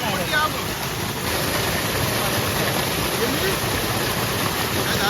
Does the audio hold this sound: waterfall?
yes